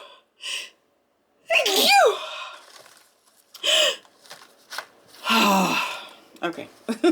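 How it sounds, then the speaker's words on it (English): A person gives one sharp, loud sneeze with a gasping intake before it, then breathes out and makes small vocal sounds close to the microphone. "I gotta sneeze."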